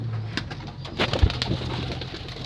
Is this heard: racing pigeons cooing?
yes